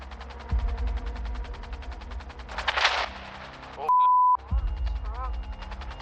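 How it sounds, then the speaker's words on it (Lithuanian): Rapid gunfire rattles in repeated close bursts during a scene from the Lithuanian crime series Dubysa 245. A short electronic tone breaks in midway, then the shooting resumes. "Šūviai tiesiog nesiliauja."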